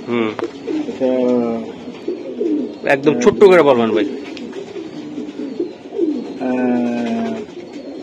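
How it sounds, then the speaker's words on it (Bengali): Racing pigeons and their chicks coo in low, throaty bursts close by on a pigeon farm, while someone speaks over them in the middle of the clip. "তিন পেয়ার কবুতর বাচ্চা আছে এখানে"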